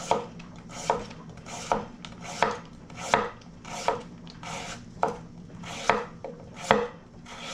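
A knife chops vegetables into thin matchstick strips on a cutting board, with about a dozen crisp, evenly spaced cuts in a steady rhythm, close and clear with no talking.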